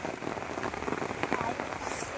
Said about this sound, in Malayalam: വളരെയധികം ശക്തമായ മഴ പെയ്യുന്ന സമയമാണ്.